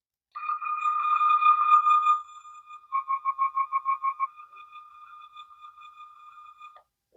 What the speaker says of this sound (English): it was the scanning sound effect